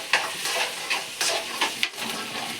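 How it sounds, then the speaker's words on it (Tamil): Boiled chickpeas tipped into a hot tempering in a pan and stirred, giving a soft steady sizzle broken by several scraping strokes of the spoon at close range. "இப்போ இது இந்த தாளிச்சை தாளிச்சதில் வந்து இந்த வேக வச்ச மூக்கல்லை கொட்டிக்கிறேன்"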